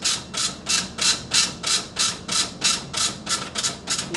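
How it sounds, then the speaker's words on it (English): A JRC MF/HF radio modem's built-in printer outputs a loop test result as a close, quiet, even rhythm of about a dozen rasping print strokes, roughly three per second. "You can hear it's printing, the equipment is printing the result."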